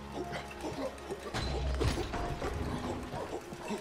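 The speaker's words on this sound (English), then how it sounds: "Pull down the elevator." An elevator being pulled down in the video game Hollow Knight gives a low mechanical rumble with ratcheting clicks and a creaking clunk partway through, moderately quiet and continuous.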